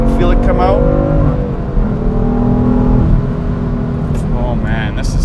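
A BMW F80 M3 engine rises in pitch as the car accelerates hard on the throttle, a loud, close, continuous roar with a player-free cabin feel, under someone talking over it.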